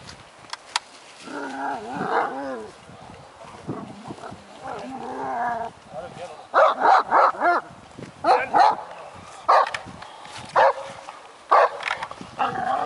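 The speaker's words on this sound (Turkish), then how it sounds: "Üç tane müthiş Türk çoban köpeği. Dövüştürüyorlar, mövüştürüyorlar." Three big Kangal shepherd dogs snarl, growl and bark in loud bursts as they fight, the barks coming in quick clusters with noisy scuffling between them.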